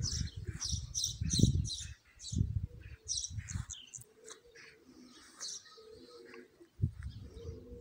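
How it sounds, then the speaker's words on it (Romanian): A pigeon coos in soft low bursts while small birds chirp and tweet higher up, moderately close in a quiet outdoor setting. "Asta-i porumbelul."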